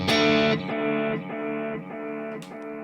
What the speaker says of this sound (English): then I've got a longer delay, which sounds like this.